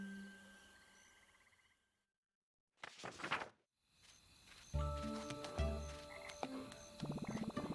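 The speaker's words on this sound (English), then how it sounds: "Check out those singing frogs." Frogs croaking in a night swamp in The Plucky Squire, rising after a brief silence into a layered chorus of pulsing, rhythmic calls mixed with other tonal game sounds, moderately close.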